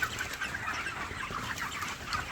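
Broiler chickens in a poultry shed during hot weather, a steady chorus of overlapping clucks and murmurs filling the space at moderate volume with no voices.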